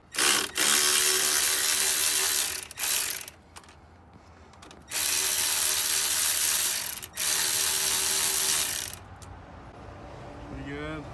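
A ratchet loosens injector bolts on an LB7 Duramax engine, its rapid clicking coming in loud, sustained runs broken by short pauses, close to the listener.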